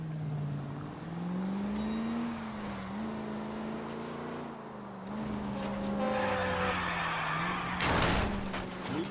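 A car engine revs with a steady droning tone while tires skid and squeal through a handbrake turn in the video game LA Noire, ending in a loud scraping burst near the close.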